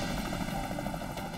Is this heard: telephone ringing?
no